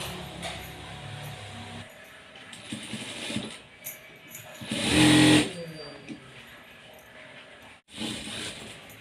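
A sewing machine stitches a blouse in bursts of mechanical whirring and clatter, with one louder run in the middle, while someone talks over much of it.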